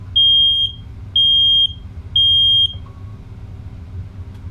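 A Nest Protect smoke and CO detector sounds its smoke test alarm: three loud, piercing electronic beeps, each about half a second long and evenly spaced, followed by a faint short tone over a low background hum.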